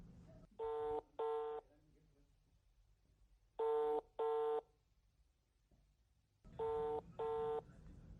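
Touch-tone dialing on a telephone, heard as three pairs of short, clear beeps separated by quiet gaps over faint background noise, in a radio drama.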